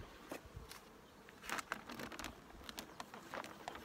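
Honey bees of a local breed buzzing around a hive in winter, a steady close insect drone with brief louder swells as individual bees pass near.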